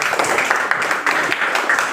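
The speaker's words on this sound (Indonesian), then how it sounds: "Tepuk tangan untuk Melati." A classroom of students claps for a classmate, giving a brief, steady patter of clapping through the two seconds with no speech over it.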